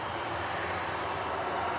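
An airliner's jet engines rumble steadily near the runway at Manchester Airport, a dense, even roar that barely changes over a brief moment, with no voices.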